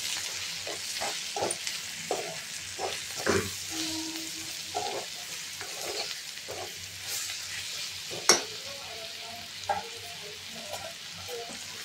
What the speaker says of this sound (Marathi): आणि 1 चमचा हळद घालूया। चांगलं एकजीव करूया।